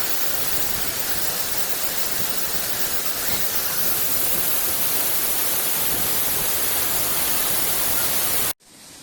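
Kiliyur Falls in Yercaud rushes as a loud, steady broadband roar of falling water close by, unbroken for several seconds before cutting off abruptly near the end.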